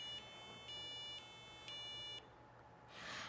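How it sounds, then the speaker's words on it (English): A Circuit Playground Express board sounds a siren-like alarm when shaken, four evenly spaced electronic high-pitched tone bursts alternating in a two-tone pattern, thin and buzzy, followed by a short hiss of handling noise. "plays a siren sound and shows lights red and blue, like a police car"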